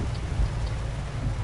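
Rain falls in a steady, dense hiss with a low rumble beneath, heard alone for a brief moment.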